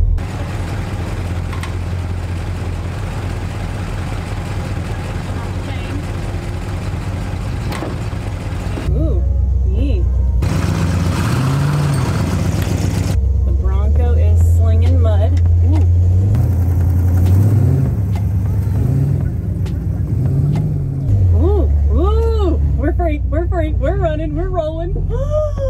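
An abandoned Plymouth Fury's engine runs and rumbles loudly as it is driven, a low, heavy, continuous drone close up, with people talking over it and occasional revs.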